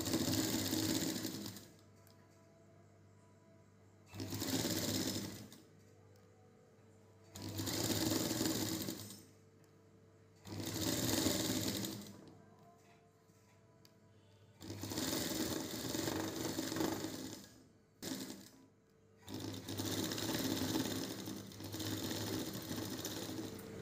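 A sewing machine runs in repeated bursts while stitching around a blouse neckline, each run lasting a second or two with quiet gaps between, then longer continuous stitching toward the end, close and fairly loud.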